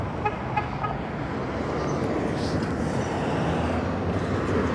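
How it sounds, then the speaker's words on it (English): A truck horn sounding near a railroad track, a few short toots early on over a steady bed of road traffic noise, moderately close and loud. "Somebody honked at me"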